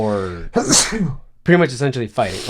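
A person sneezes once, loud and close, in a burst between stretches of nearby conversation, with people talking before and after it.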